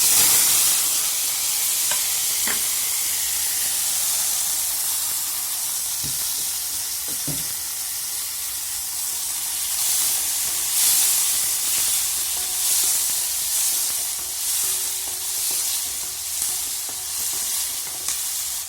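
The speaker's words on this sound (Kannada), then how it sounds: "ನೋಡಿ, ಎಣ್ಣೆಯಲ್ಲಿ ಚೆನ್ನಾಗಿ ಬೇಯ್ತಾ ಇದೆ." Onion and tomato fry in oil in a pan with a steady, close sizzle and hiss, broken by a few soft stirring clinks, with no voices over it.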